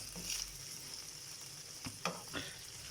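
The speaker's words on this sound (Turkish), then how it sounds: "Şimdi güzelce kavuruyoruz ciğerlerimizi." Chicken livers sauté in a pan with a steady faint sizzle, broken by a few sharp scraping stirs near the end.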